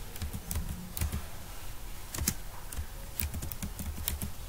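Computer keyboard keys tapped in short irregular bursts while entering a username in a login form, close and moderately loud with small pauses between clusters of keystrokes.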